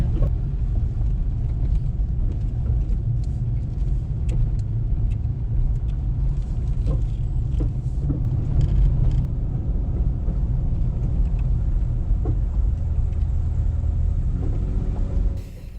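A Honda Pilot SUV grinds along the rough off-road track of Onion Creek Loop near Moab, its engine and tyres producing a steady low rumble with intermittent bumps and rattles from the cabin, no talk.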